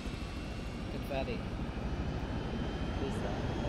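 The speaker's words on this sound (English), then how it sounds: "Everybody come to the big loud chopper." A large, loud transport helicopter in the military video game Arma 3 gives a steady, close engine drone and rotor roar that holds for the whole stretch with no break.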